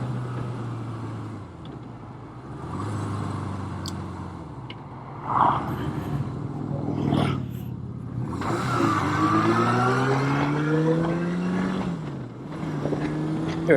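A car engine revving high at around 5,500 RPM on a road ride, a steady droning whine that rises in pitch through the gears, with wind and road noise around it.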